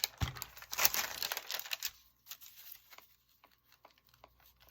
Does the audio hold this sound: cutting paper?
yes